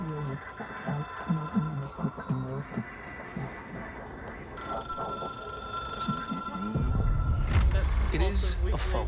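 An old-fashioned telephone rings repeatedly in the video game Control, a series of bright ringing bursts over a murky hum, followed by a deeper throbbing swell near the end.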